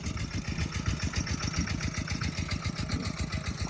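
A walking tractor's small engine chugs in a fast, even rhythm while plowing a rice field, close and steady for the whole stretch.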